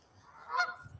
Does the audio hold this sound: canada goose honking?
yes